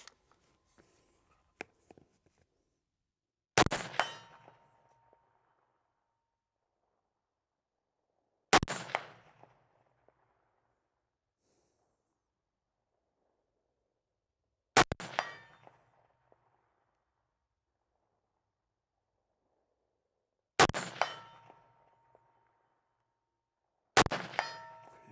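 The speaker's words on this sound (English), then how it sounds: "So I've got a target here at 110 yards. We're going to see how well I can do offhand." Five rifle shots fired offhand at a steel target 110 yards away on a range, each a sharp crack followed by a ringing metallic clang, spaced several seconds apart against a quiet background.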